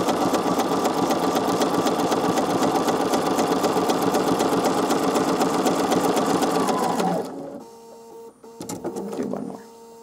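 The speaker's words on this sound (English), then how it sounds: "And then I just sew that block together." A sewing machine zigzag-stitches quilt-as-you-go blocks together, its needle running in a fast, steady, loud rhythm for about seven seconds before stopping, followed by a few soft handling sounds.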